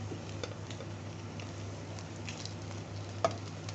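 Tikoy rice cake coated in egg frying in a pan, a steady soft sizzle with light spattering and one brief clink near the end, with no one talking.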